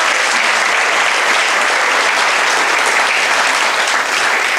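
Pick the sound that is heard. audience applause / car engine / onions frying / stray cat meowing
audience applause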